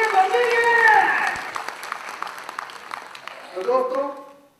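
An audience of LIC agents at a motivational talk breaks into a short burst of moderate clapping between a speaker's voice before and after it.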